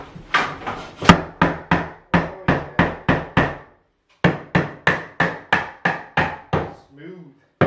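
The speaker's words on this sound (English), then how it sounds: "Here's a snap-on hammer for you." An old Snap-on hammer strikes wood at close range, loud and sharp, in two steady runs of about ten blows each, separated by a short pause.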